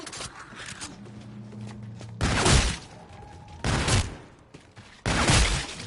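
Shotgun fire in the Infinite Warfare Zombies video game, three loud, broad blasts spaced over several seconds with quieter game sounds between them.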